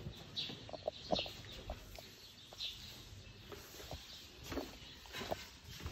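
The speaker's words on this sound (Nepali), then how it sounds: "चराहरू कराइरहेको छन् है" Chickens clucking softly at a distance, scattered short calls and a few footsteps over a quiet, steady outdoor hum at the BP Koirala Museum, Sundarijal, Nepal.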